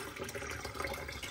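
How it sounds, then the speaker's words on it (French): Water being poured into a machine, a faint, brief splashing trickle of liquid lasting about a second. "je vais mettre de l'eau dans sa machine"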